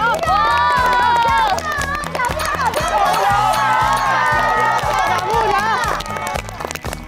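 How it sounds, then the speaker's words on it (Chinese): An audience cheers and claps to welcome a guest onto the stage at a company team-building event, loud crowd shouts and whoops layered over a pulsing music track, sustained throughout. "掌声有请贾部长。"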